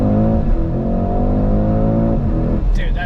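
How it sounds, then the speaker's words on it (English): Porsche Cayenne E-Hybrid SUV with twin-turbo V8 and electric assist accelerating hard, a loud sustained engine drone heard from inside the cabin, rising through the gears with a shift near the end. "I'm gonna still put a twin turbo V8 and electric assist."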